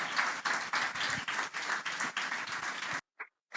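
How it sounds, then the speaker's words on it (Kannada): A church congregation claps together in worship, steady rhythmic claps about twice per second, loud and full, stopping abruptly with a couple of stray claps after. "ಚಪ್ಪಾಳೆ ತಡ್ತಾ ದೇವರನ್ನ ಮಹಿಮೆ ಪಡಿಸಿ."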